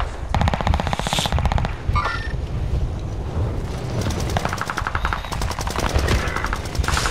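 Rapid bursts of automatic gunfire in the video game Warzone, dense rattling volleys that pause briefly and resume, loud and sustained throughout with no talking.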